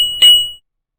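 A single bright bell ding rings out in a word-guessing game, sharp and clear with a short ringing tail that fades within about half a second, then silence.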